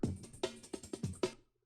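A short drum and bass break with repitching turned off, a handful of dry kick and snare hits in a loose groove, stopping abruptly into silence.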